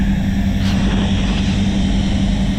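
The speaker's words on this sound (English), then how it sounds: "grab that blower, dry that base coat down for a minute" An air blower dries the base coat of machine grey paint on a Mazda CX-9, giving a loud, steady, unbroken rush of air with a low hum beneath it and no talking.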